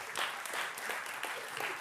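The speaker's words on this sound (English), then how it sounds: "Give him a round of applause." A studio audience claps on a live variety show, a short burst of applause with several distinct loud swells that stays close and steady throughout.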